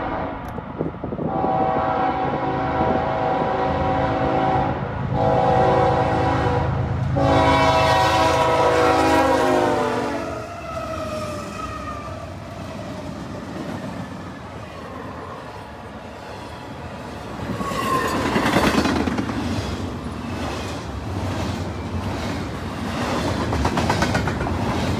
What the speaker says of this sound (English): this is an intermodal that's flying here through Millbury, Ohio